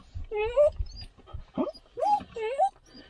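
Dog whimpering and crying inside a van, with several drawn-out whining cries in a rising, wavering pattern, separated by short pauses and some rustling.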